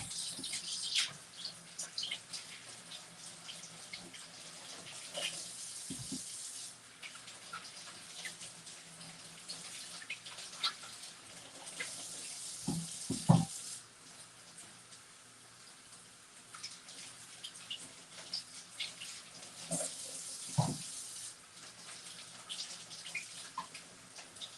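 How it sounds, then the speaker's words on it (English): Running kitchen tap water gushing steadily while fruit is rinsed under it, with brief louder splashes and clatters at a few points and no talking. "let me just rinse these because I did not rinse these off"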